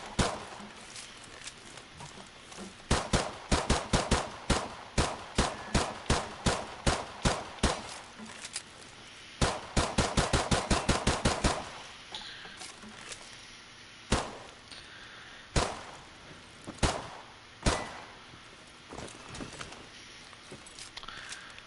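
Beretta M9 pistol fire in a video game: sharp shots in quick runs and bursts, some nearly rapid-fire, then slower spaced single shots, loud and close with no voices.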